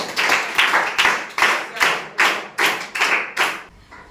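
Audience at a Ramayana quiz event clapping in rhythmic bursts, about eight loud, close rounds of applause fading out at the end.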